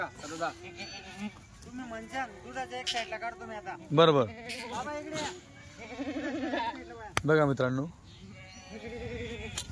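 Kathiawadi goats at a wholesale goat dealer's yard give loud, wavering bleats, several calls overlapping near the listener while someone talks over them.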